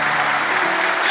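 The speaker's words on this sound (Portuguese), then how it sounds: "aplauda bem forte o nosso Senhor" A church congregation applauds loudly, a dense continuous burst of many hands clapping close and steady throughout.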